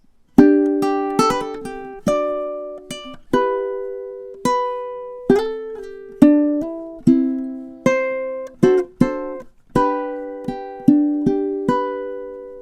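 A ukulele plays a song's intro alone, a steady series of plucked notes and strums, each ringing and decaying before the next attack.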